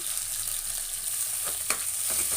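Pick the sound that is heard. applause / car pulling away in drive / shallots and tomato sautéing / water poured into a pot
shallots and tomato sautéing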